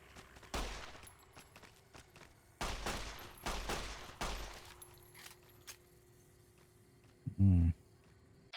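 Gunshots from a weapon in the video game Fallout: New Vegas, several loud broadband bursts spaced across the clip, then a brief tonal electronic sound near the end.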